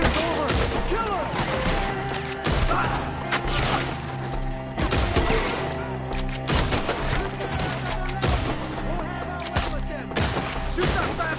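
Dense gunfire erupts in a Red Dead Redemption II shootout, rapid shots cracking one after another in a steady barrage with mechanical clatter, while shouting voices carry faintly beneath the noise.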